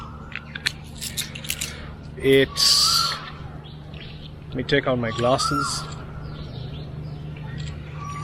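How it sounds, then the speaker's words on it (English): Bird chirps ring out outdoors in short bright bursts, with one louder chirping run early and a quick trill later, heard alongside a man's speech. "That bird is killing my video"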